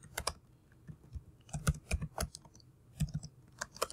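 Keys clatter on a computer keyboard in quick irregular bursts, close and fairly quiet, with short pauses between runs of keystrokes and no talking.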